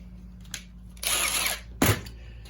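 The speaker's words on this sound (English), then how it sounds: "We're going to put it on our Milwaukee impact" A Milwaukee impact wrench fitted with a 1/4 inch adapter removes a bolt on a 21 inch Toro snow blower, giving a half-second whirring burst followed by a short louder hammering burst, close by, with no talk.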